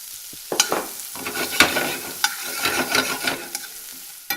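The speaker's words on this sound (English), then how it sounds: "I'm just going to do a quick saute in butter and olive oil" Garlic scapes and onions sauté in butter and olive oil in a pan, sizzling loudly up close while a utensil stirs and scrapes in irregular bursts.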